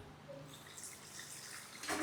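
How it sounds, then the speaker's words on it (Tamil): Water pours into a pot of tamarind crab gravy, a soft, steady running trickle heard close but quiet, with a brighter splash near the end. "இப்போ வந்து குழம்புக்கு வந்து தண்ணி ஊற்றிடுவோம்"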